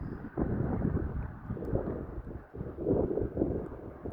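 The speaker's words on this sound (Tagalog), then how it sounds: "Naririnig nyo ba yung hangin guys?" Strong, cold wind buffets the microphone in a steady, gusty low roar with no voices, outdoors while waiting for a bus.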